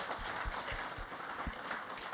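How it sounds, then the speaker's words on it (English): Brief audience applause after a talk on submarine cables at a network operators' meeting, light scattered claps at moderate distance for about two seconds. "give him a round of applause"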